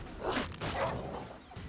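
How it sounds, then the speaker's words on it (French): Dogs in The Witcher 3 bark in two or three quick, muffled yelps close by, over game ambience. "Oh les sales chiens. Dégagez les chiens."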